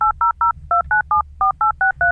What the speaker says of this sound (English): DeckTalk software can play sound files, dial telephone numbers